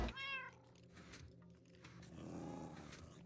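Cats meow in a Minecraft world where cats and a dog share a farm, with a clear high meow at the start followed by further softer meows and low animal sounds, all up close with no talking.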